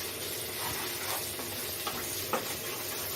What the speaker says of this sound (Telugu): మిరపకాయ కానీ ఉల్లిపాయ కానీ ఉప్పు వేసిన తర్వాత తొందరగా వేగిపోతాయండి